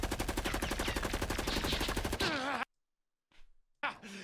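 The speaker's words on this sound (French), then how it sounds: "C'est rien qu'un flingue." Gunfire from a single gun rattles in a rapid, loud burst of evenly spaced shots over music in a ninja action game, then cuts to silence before faint sounds and more music resume.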